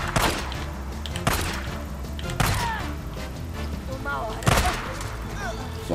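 Gunfire in a shooting video game: four loud, sharp shots spaced about a second apart, each with a short tail, over constant game background noise, with a few chirpy high effects between them.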